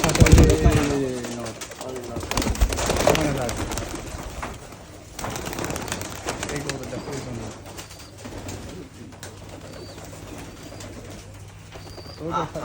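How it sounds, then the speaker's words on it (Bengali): Pigeons kept in a loft, including a large hen of a Rajshahi highflyer breed, coo repeatedly nearby while people talk over them throughout. "এত বড় মাদি কবুতর"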